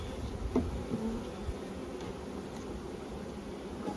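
Honey bees buzz around two opened hives in an outside apiary, a soft, continuous low drone with occasional closer passes and faint rustling, quiet and with no talking.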